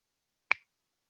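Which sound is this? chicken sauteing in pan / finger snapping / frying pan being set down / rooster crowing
finger snapping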